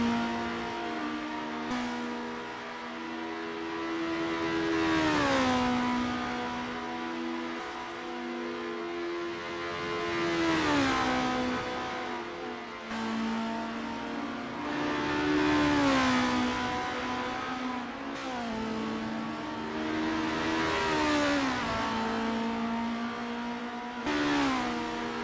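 Formula race cars in the Assetto Corsa racing game scream past with high-pitched revving engines, rising and falling through gear shifts in a steady, continuous drone across the whole stretch.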